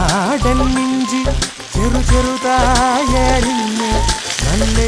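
Hot coconut oil sizzles steadily in a pan during an Onam special cookery show, a continuous frying hiss running beneath louder melodic background music throughout.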